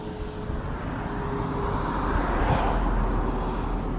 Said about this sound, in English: It's a Boeing 747, probably a Dash 400.